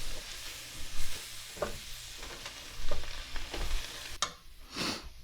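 Ground meat for a shepherd's or cottage pie sizzles softly in a pan while a spoon stirs it, with scattered scraping strokes and a louder clatter near the end, no talking.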